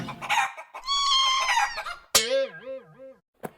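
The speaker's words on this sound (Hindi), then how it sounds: "गब्दू, मुर्गी और चूजे ड्राइंग रूम में।" A hen clucks and squawks up close in a short, loud, animated burst, followed by a couple of quick sharp calls.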